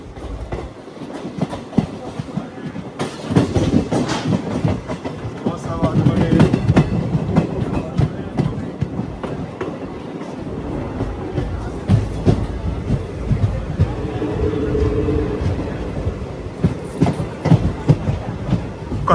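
A new passenger train runs from Bhimavaram toward Akividu on its inaugural weekly special run, heard from on board with steady loud rumble and clickety-clack of wheels on rail joints throughout.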